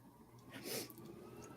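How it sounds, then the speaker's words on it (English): A single short sneeze bursts out near the middle, close and fairly quiet, amid faint background noise. "Oh, got to sneeze."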